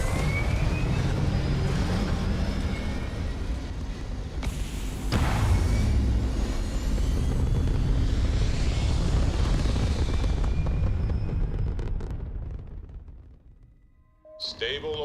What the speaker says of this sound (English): Take off. We are cleared for liftoff.